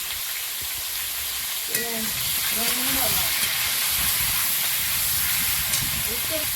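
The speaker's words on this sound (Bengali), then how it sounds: "আলুর মধ্যে একটু লবণ দিয়ে ভাজবো আমি" Potatoes with salt frying in a pan give a steady, loud sizzle and hiss throughout, with brief stirring clinks and a voice speaking faintly over the cooking.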